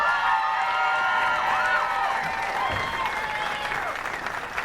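Crowd at a girls' state basketball finals gives a round of applause and cheering for the two finalist teams, a dense roar of clapping with shouts that eases slightly toward the end.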